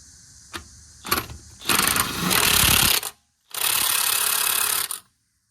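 An impact wrench fitted with a torque stick tightens a single lug nut on a car wheel, firing in a few short loud bursts followed by two sustained rattling hammering runs, close and with no talk.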